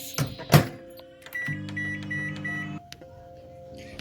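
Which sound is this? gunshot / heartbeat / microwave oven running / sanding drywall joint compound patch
microwave oven running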